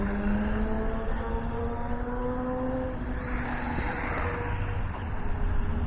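A Feiyue FY-03 Desert Eagle RC rock racer with a 390 electric motor drives along, giving a steady high motor whine with rising and falling pitch, fairly close and continuous, with no voices.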